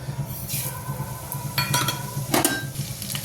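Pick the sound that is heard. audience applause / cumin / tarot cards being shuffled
cumin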